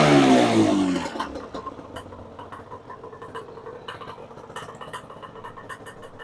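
A Yamaha Banshee two-stroke engine, fitted with an idle gear bushing and a new clutch, runs in a shop, starting with a loud rev burst before settling into a busy, rattling idle with light mechanical clatter.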